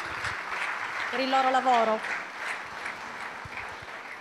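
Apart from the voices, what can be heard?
applause for the jury members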